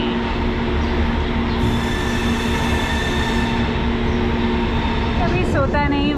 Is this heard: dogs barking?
no